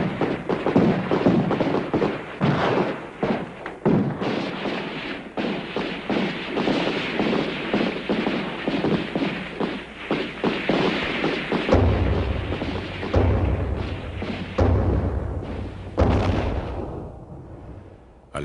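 Gunfire in a mass shooting, a long barrage of sharp shots and heavy thuds in rapid irregular bursts, loud and close, with a deep low rumble joining near the end.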